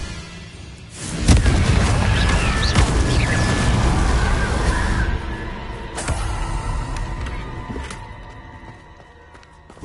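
A Confringo blasting spell from Hogwarts Legacy erupts in a loud, booming burst that swells and rumbles for several seconds before fading, with smaller crashing impacts trailing after it.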